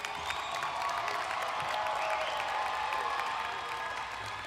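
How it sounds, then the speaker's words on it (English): Steady applause from a commencement ceremony audience clapping for graduates, a dense, even wash of many hands heard from a distance at moderate level throughout. "Please give a round of applause to all our graduates who are here today"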